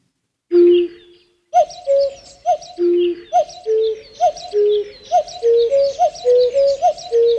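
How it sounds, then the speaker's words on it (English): A common cuckoo repeats its two-note call in a steady series of about a dozen calls, loud and clear with no other sound behind it. The notes gradually step upward in pitch. "This is a cuckoo."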